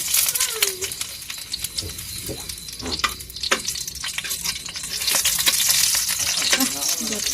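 Garlic frying in cooking oil for a mung bean dish, a steady close sizzle with stirring scrapes and clinks running throughout, with no talk over it.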